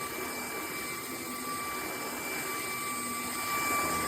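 A Hoover ONEPWR Evolve Pet Elite cordless stick vacuum runs with a steady, even whine and airflow rush, holding at one level and swelling slightly at the end, with no talking.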